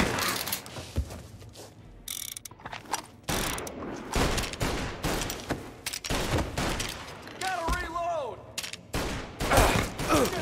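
Gunfire rattles through a shootout in the video game Mafia: Definitive Edition. Repeated loud bursts and volleys come in rapid, uneven clusters, with in-game voices heard between the shots.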